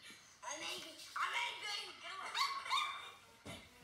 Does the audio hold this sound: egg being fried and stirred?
no